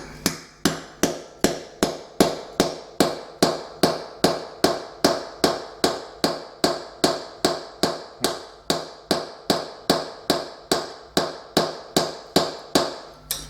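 A hammer strikes a steel chisel driven under a floor tile, about forty sharp, evenly spaced blows in a steady fast rhythm, each ringing briefly, close and loud with no talking.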